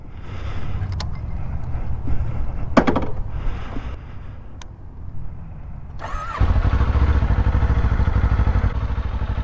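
A 2024 Kawasaki Ninja 500 ABS motorcycle starts up after some handling noise and clatter, then its engine settles into a loud, steady running drone close by.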